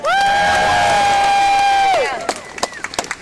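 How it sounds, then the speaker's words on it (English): Protesters at an elephant ivory trade demonstration outside DEFRA let out a loud, long sustained cry for about two seconds, then it breaks into scattered claps and short shouts. "Can I have a round of applause for Action for Elephants and Maria?"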